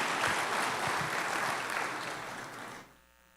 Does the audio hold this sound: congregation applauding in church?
yes